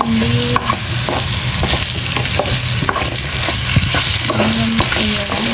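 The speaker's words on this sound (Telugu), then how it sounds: "జింజర్ గార్లిక్ పేస్ట్ వేసేసుకున్నాం. ఇప్పుడు బాగా మిక్స్ చేసుకోండి." Ginger garlic paste sizzles steadily in a hot pan for a palak potato curry while a utensil stirs it with repeated scraping strokes, close and loud throughout with no voices.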